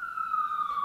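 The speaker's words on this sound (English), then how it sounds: "Here comes another siren, but that's okay." An emergency vehicle siren wails outside as a single steady, fairly loud tone that slides slowly downward in pitch over under a second, with no other sounds.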